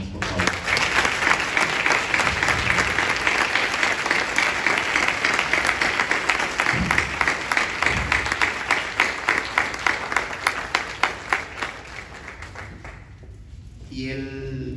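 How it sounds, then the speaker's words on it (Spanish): An audience applauds Cuauhtémoc Cárdenas at a book presentation at a university, dense sustained clapping that thins into scattered claps and fades near the end. "Yo les pido un fuerte aplauso para el ingeniero Cuauhtémoc Cárdenas, por favor."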